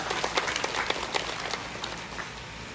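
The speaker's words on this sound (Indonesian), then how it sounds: "tepuk tangan untuk beliau" Applause from a village gathering in Rimbo Ulu, Tebo, welcoming a supporter at a campaign team inauguration for a regency head candidate; dense, steady clapping from a moderate crowd, fairly soft and even throughout.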